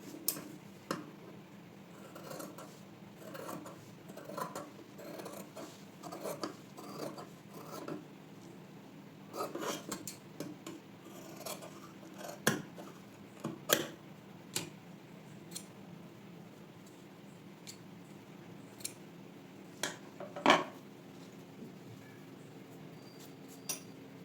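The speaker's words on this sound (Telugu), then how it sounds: "అలాగే ఈ షేప్ బెల్ట్ని కట్ చేసుకోండి" Scissors snipping a shape belt for a blouse from fabric, a long run of irregular close crisp cuts and taps, some clusters and isolated louder snips, no talking.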